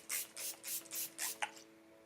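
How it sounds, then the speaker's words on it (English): Makeup setting spray is misted onto a face in about five short, soft hissing bursts at close range, each lasting a fraction of a second, with no talk. "I'm just gonna spray your face and make sure it all stays through the entire day."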